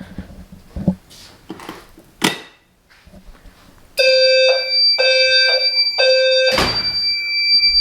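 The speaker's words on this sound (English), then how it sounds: "that sounder is actually really loud" A low-pitched Spectral Alert Advance fire alarm sounder, deeper in tone but full volume, blares in three loud, steady pulses with brief gaps after some earlier knocks and handling noises, then keeps sounding continuously.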